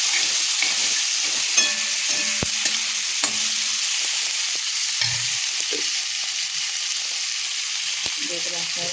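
Potatoes, onion and tomato frying together in a pan, with a continuous close sizzle, occasional spatula scrapes and brief background voices.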